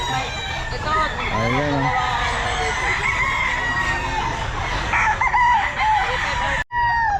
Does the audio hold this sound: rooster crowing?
yes